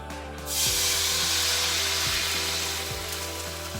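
Beef chilli glaze sizzles steadily in a hot pan, a loud continuous frying hiss that swells after a brief quiet start and holds on without talk.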